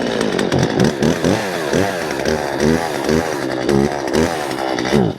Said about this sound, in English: take the chainsaw and cut a little bit of an angle there